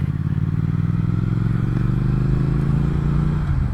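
A 2019 Triumph Speed Twin motorcycle cruises through dense urban streets, its steady engine drone and exhaust rumble holding constant and close throughout, with no talking.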